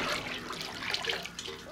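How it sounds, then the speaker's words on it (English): Water from a bucket is poured through a water filter at an off-grid cabin, giving a steady splashing rush that stays loud and continuous throughout. "these two I'll put through the water filter because it doesn't matter how dirty that water is."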